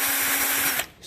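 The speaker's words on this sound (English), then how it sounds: "you can just take a tool," A power tool whirs steadily for under a second while spinning out a bar end mirror screw on a Suzuki GSX-S750 motorcycle, then cuts off abruptly.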